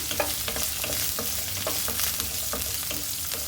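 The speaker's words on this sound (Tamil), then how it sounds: "சின்ன வெங்காயமும் கருவேப்பிலையும் சேர்த்துக்கிறேன்" Small onions and curry leaves fry in hot oil, a steady close sizzle broken by scraping stirs of a spatula against the pan, with no talking.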